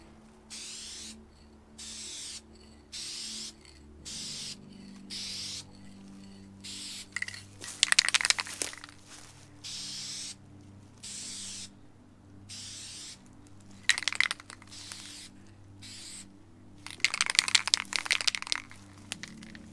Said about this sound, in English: you're gonna stay about 8 to 10 inches away or so, and do light sprays.